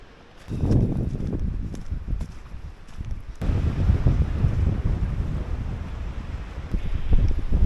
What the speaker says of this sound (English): As you can see, it is quite windy.